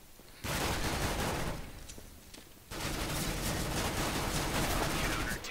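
Rapid P90 submachine gun bursts in a competitive first-person shooter match, two sustained loud volleys split by a brief drop, dense and continuous with no pauses between shots.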